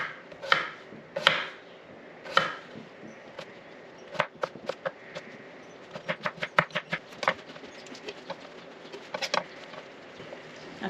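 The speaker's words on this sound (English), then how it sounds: "just chopping potatoes." Potatoes chopped with a knife on a cutting board in a home kitchen, a run of sharp, close knocks, at first a few spaced strikes and then a quicker, uneven burst of rapid cuts.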